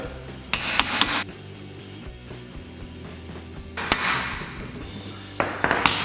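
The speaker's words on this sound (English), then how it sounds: "Let's see how we can swing the hammer this way." A hammer strikes a pickle fork to free a tie rod on a 1990 Nissan 300ZX Turbo, in two clusters of sharp, ringing clanks, with quieter shop noise filling the gaps between blows.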